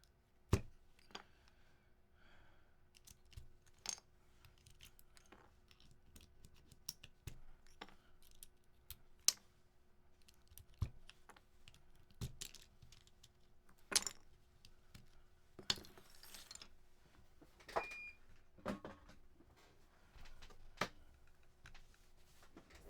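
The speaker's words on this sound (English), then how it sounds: "I need to pop off a few keycaps." Keycaps being popped off a mechanical keyboard, a quiet series of sharp plastic clicks and ticks at irregular intervals, close by with faint background in between.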